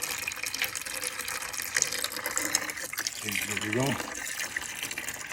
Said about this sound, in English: And that should be draining down. It's draining into this bucket